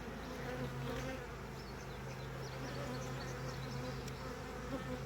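Honey bees buzz steadily around an open first-year hive being split in June, a dense droning swarm hum with a few louder passes, close and continuous with no talking.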